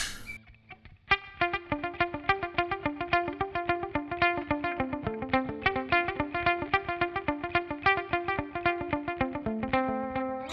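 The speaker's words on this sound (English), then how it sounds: "And then maybe a delay." Electric guitar running through a NUX Cerberus with delay added, a steady, fairly quiet picked pattern of repeated notes whose echoes trail each attack in a regular rhythm, with no voices.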